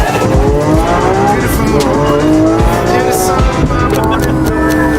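Lamborghini Aventador SVJ driven in Dubai, its engine roaring loudly and steadily with rising and falling harmonic sweeps as gears change, tires squealing over the top, the car close and dominant throughout.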